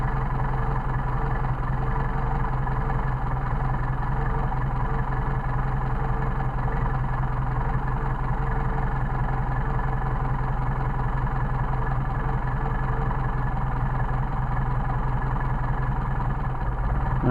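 A Mercedes 190SL engine runs on Solex carburetors under test, a loud steady idle drone with a constant low hum, continuous and close throughout with no voices.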